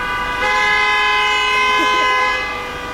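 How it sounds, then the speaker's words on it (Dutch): Several car horns sound in a stalled traffic jam, a steady layered honk held for nearly three seconds, moderately loud and slightly distant, with no talk over it. "Kijk, ze zijn allemaal aan het toeteren."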